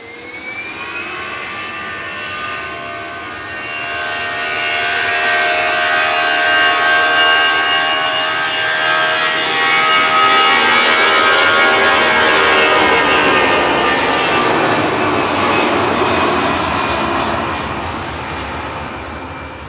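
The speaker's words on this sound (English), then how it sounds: "Lufthansa 947 to Frankfurt, the AIQU A321 Classic," A 24-year-old Lufthansa Airbus A321 jet taking off at Manchester Airport, its engines swelling into a loud, sustained roar that peaks mid-clip and slowly fades, with no talk over it.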